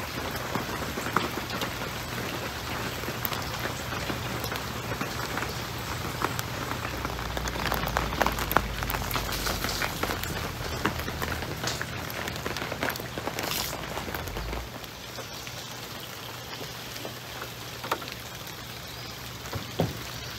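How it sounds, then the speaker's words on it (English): Heavy rain pours down steadily at Tahquamenon Falls in Michigan, a dense hiss of drops drumming on a surface, close and continuous, easing slightly toward the end. "now that the rain came in so heavy and it's starting to rain again"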